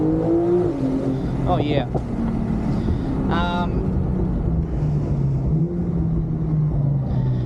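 A Porsche 911 Turbo S 992 accelerates out of corners, its loud close engine drone rising and falling in pitch under wind noise, while a rider briefly exclaims over it.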